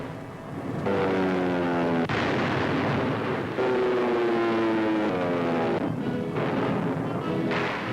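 A World War II bomber drones overhead in flight in an old newsreel. Its engines make a loud, steady roar that wavers in pitch and fades in and out in waves, with no voices.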